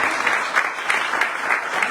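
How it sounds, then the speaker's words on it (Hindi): Sustained loud clapping from a church congregation at a Sunday service, a thick steady wash of many hands throughout. "मैंने कहा था कि उसके जलाल के लिए एक दफा जोर से ताली बजाएं"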